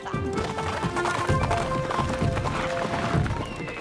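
Cartoon horse galloping in an animated Yakari children's series, a rapid run of hoofbeats under busy music and effects, steady and fairly loud throughout.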